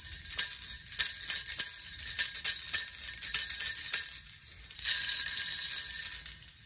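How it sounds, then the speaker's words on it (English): Small jingle bells shake and ring in bright, shimmering bursts, some rhythmic strikes followed by a sustained jingling, close and fairly clear. "These bells are gonna be beautiful."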